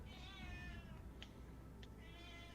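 A cat lets out two long, wavering meows, one at the start and one near the end, with short sharp squeaks between them, close and fairly loud over a constant low hum and no speech.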